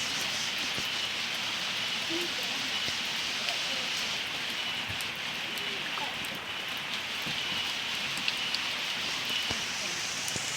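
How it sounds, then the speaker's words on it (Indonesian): Rain falls steadily on surfaces in a rural Sundanese village, a soft, even patter with scattered louder drops, fairly faint and close around the listener. "Hujannya."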